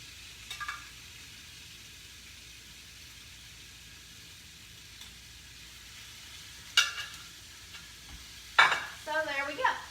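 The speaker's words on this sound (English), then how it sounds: "So hear that sizzle?" Boneless pork loin sizzles in a pan on a stove, a soft steady hiss running throughout, with a couple of sharp utensil clatters and scrapes near the end.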